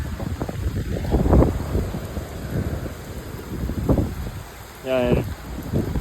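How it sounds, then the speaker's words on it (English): Howling hurricane winds during Hurricane Milton in central Florida roar and buffet the microphone in irregular gusts, with a brief tonal burst near the end. "I can hear the howling winds, and you can hear it."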